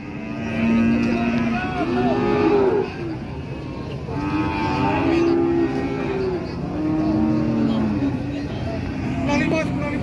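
Limousin cattle, young heifers, moo repeatedly at a cattle market, several loud drawn-out calls close by over a steady crowd murmur and background chatter.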